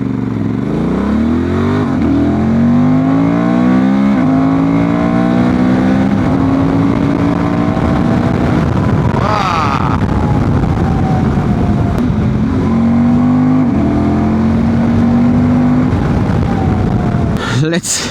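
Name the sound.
Transalp 750 motorcycle accelerating, rear wheel spinning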